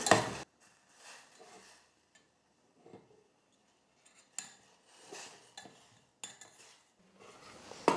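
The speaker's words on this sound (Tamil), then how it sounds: "இப்போ ஸ்டவ்வை பற்ற வச்சுக்கிட்டு வெல்லத்தை கரைச்சிக்கலாம்." A spoon scrapes and clinks against a metal pan while jaggery dissolves in water on the stove, in short irregular bursts of stirring separated by near silence, close and moderately loud.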